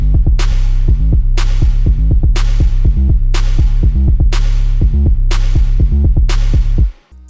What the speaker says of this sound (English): Then I added another snare layered under the initial snare,